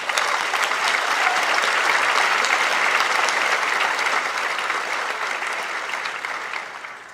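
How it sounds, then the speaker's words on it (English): Steady, dense applause from a large commencement crowd at Harvey Mudd College, sustained for several seconds and slowly tapering near the end, with no speech over it. "let's give a round of applause to that group of people as well"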